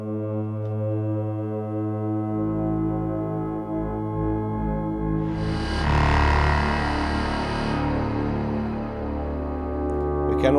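A single-oscillator modular synth drone, a sustained harmonic tone whose deep sub layer swells and fades under an LFO, with a brighter distorted, filter-swept burst rising midway before settling back, loud and continuous throughout.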